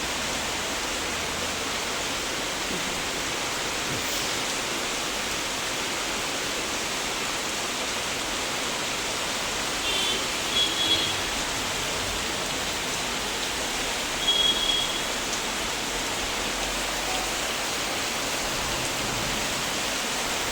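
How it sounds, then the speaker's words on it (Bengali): Heavy rain pouring down steadily outdoors, a dense, unbroken hiss of water throughout with a couple of faint bumps in the middle. "ভালোই বৃষ্টি বলো কখন আমি ভিডিওটা চালিয়েছি ভিডিও চালানোর দু সেকেন্ড আগে থেকে হচ্ছে এখনও হয়ে যাচ্ছে"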